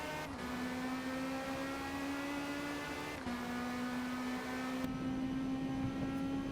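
A Lamborghini Le Mans hypercar in a Forza racing game drives hard, its engine a steady high whine that rises in pitch and drops at two gear shifts, loud and continuous with no talk.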